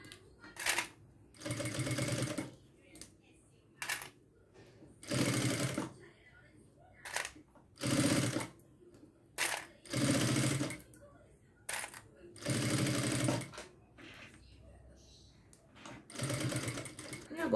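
A sewing machine set to a wide stitch runs along a fabric edge in repeated loud bursts of steady mechanical whirring, separated by short pauses with small clicks and handling sounds.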